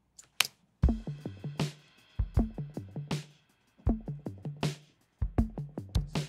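Punchy drum kit groove through a Neve analog console bus, with hard kicks and snare hits in a steady rhythm, dry and close, separated by short gaps.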